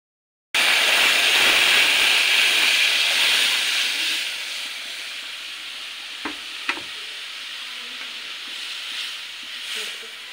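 A sudden burst of loud sizzling and hissing as dal is poured into hot tempering of browned onion, garlic and chili, gradually settling into a softer steady sizzle with a couple of faint clinks.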